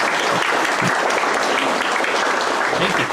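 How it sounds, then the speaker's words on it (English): Audience applause for a speaker at a ham radio talk, steady dense clapping from a room full of people filling the whole moment without pause. "How about a round of applause for Ward Silver?"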